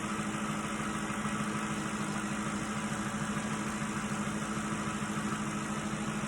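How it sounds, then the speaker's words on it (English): A 2005 Ford Expedition engine idles steadily after a camshaft sensor replacement, giving a smooth, even, continuous hum with a low drone, heard close up and without talk. "That is normal running engine."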